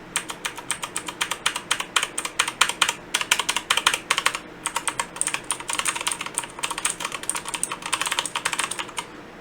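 Blue clicky switches on a Redragon K552 87-key mechanical keyboard clatter in fast, irregular bursts of crisp close-up clicks, with short pauses between runs and no voice over them.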